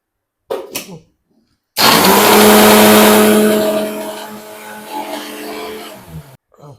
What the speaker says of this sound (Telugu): మిక్సీ చేసేస్తా.